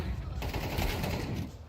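Rapid gunfire from a Counter-Strike 2 match in an esports tournament, dense bursts of shots blending with crowd and game noise while a commentator talks over it.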